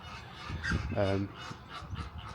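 Geese at Martin Mere honk close by, with one loud, clear honk in the middle among softer calls and background noise, and a person speaking faintly.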